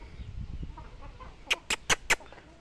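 Free-range chickens clucking as they feed on termites outdoors, a few soft low clucks early on followed by four sharp, evenly spaced louder calls close by.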